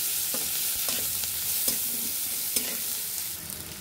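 Chopped onions with a pinch of black cumin fry in a pan with a constant close sizzle, while a spatula stirs and taps the pan in a loose rhythm of sharp clicks.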